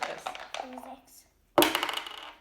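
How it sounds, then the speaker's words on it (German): A child rolls a die during a piano-lesson preparation game, a sudden bright clatter of the die tumbling on a hard surface after a brief silence, preceded by nearby speech. "Anschließend würfelt es"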